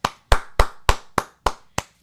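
Seven sharp, evenly spaced hand claps ring out close and dry, one person clapping in quick succession with no other sound around them.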